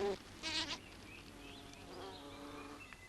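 A bee buzzes at a flower during buzz pollination, giving a couple of brief, faint vibrating bursts over quiet background noise.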